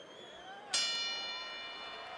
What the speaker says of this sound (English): And the bell rings, signifying the end of the round.